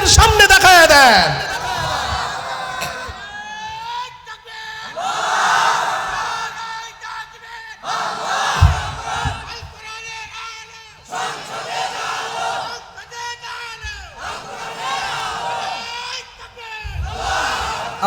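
A large rally crowd roars a takbir chant in repeated waves, with several loud, echoing bursts of massed shouting separated by short pauses, sounding close and powerful over a reverberant outdoor space.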